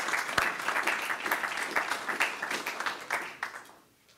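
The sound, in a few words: audience applause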